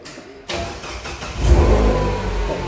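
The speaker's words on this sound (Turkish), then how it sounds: "Çalıştırın arabayı." A Mini Cooper's engine cranks and catches, then settles into a steady mid-pitched idle with a brief swell in revs, heard close up in a workshop with no one speaking.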